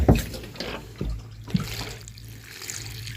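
Water splashes and trickles over chopped cauliflower in a container, with a few distinct pours and sloshes up close, then a softer running flow.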